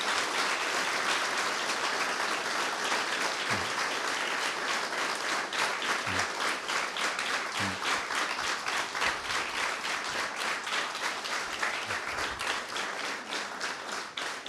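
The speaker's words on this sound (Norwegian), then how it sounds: "Så jeg mener en enorm applaus for den gjengen her." Sustained, dense applause from an audience at a photography school's graduation exhibition fills the space continuously, a loud, even roar of many hands with faint low thumps scattered through it.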